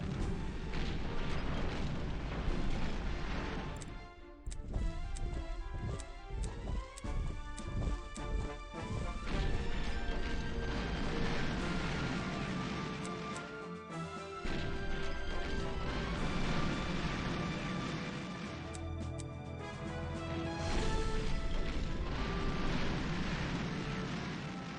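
Combat in the turn-based war strategy game Panzer General II: repeated gunfire cracks and crashing explosions burst out in clusters over a droning, tonal game soundtrack, loud and close, with brief lulls between volleys.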